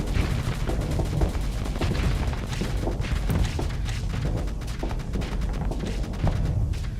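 Spaceship guns and ion cannons blaze in Starsector, forming a dense, unbroken barrage of overlapping shots and thuds that lasts the whole stretch at steady loudness.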